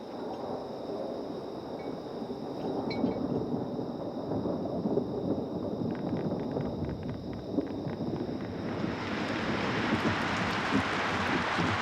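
Heavy rain pours steadily with rumbling thunder beneath it, the downpour growing denser and louder toward the end while a high steady tone hangs over the storm.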